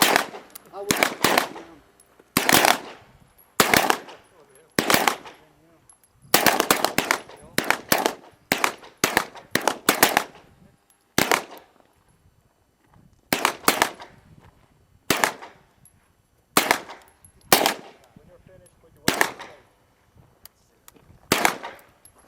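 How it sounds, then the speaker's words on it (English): Rifles fire single shots at a military shooting range, with sharp loud cracks coming one after another at irregular intervals, sometimes two or three close together, separated by brief quiet gaps. "single fire, no time limit. You can fire now."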